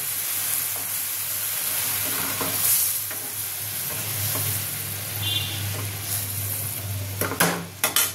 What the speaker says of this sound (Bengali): এবার এটা আমি একটুখানি ফোটাবো।